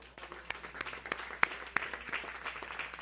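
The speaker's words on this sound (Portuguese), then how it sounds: "Você pode aplaudir ao Senhor." A church congregation applauds the Lord at a special anniversary Bible school service for youth, with scattered individual claps standing out sharply over a softer bed of clapping.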